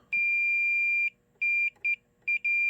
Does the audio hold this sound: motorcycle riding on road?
no